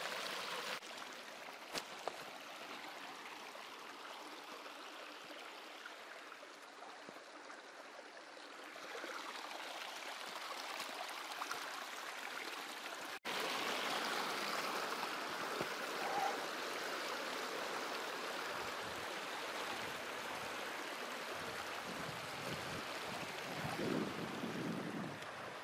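A mountain stream flowing near Iron Bog Lake, a steady broadband rush of water that is fairly close. It grows somewhat fuller partway through, with some wind buffeting and no talking.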